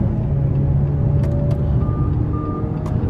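Jeep Compass Limited 2.0 2017 overtaking on a highway, heard from inside as a steady, loud road and engine rumble with constant tyre noise, no talking.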